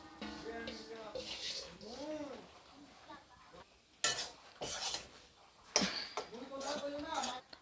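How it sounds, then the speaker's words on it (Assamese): Rice flour is dry-roasted and stirred in a pan for Assamese banana-leaf pitha, making bursts of scraping and rasping, with birds cooing and chirping softly in the background. "মই প্ৰথমতে চাউলৰ গুড়িখিনি ভাজি ল'ম।"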